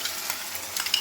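Manchurian sauce for chicken Manchurian bubbles and sizzles in a frying pan, with soft scraping strokes of a spoon as it is stirred.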